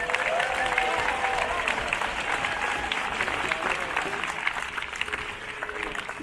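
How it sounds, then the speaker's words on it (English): Steady, dense applause from an outdoor crowd at a Memorial Day concert in Green-Wood Cemetery, Brooklyn, honoring the cemetery grounds crew, sustained evenly throughout with some faint voices mixed in. "I'd love to get a big round of applause for them."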